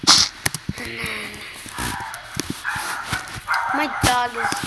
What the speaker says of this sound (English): my dog is barking too much